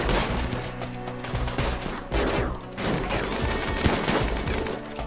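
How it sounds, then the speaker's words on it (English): Dense, rapid gunfire from pistols, machine pistols and a pump shotgun during a RimWorld battle, overlapping shots crackling continuously and loudly throughout. "Pistols. Yeah, that guy. And a pump shotgun. You're getting shot by machine pistols as well."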